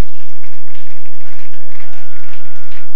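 A church congregation applauds to acclaim Jesus, with steady, dense clapping that fills the room evenly throughout.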